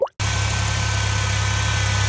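A 2008 Chrysler minivan engine being worked on for a cracked heater hose coolant leak starts up after a brief click, then runs at a steady, close, low-pitched idle hum with constant vibration.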